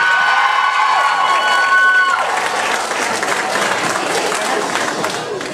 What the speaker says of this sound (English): huge round of applause for Paula, Emma and Jayde.